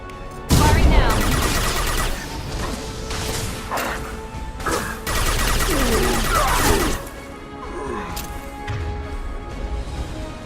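Sharp gunshots and impacts from the shooter game Mass Effect 2, a loud opening blast followed by scattered shots, crashes and whooshes, with a voice speaking between bursts.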